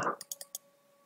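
Computer mouse clicking in Microsoft Excel: four quick, crisp clicks in close succession near the start, followed by quiet with a faint steady tone.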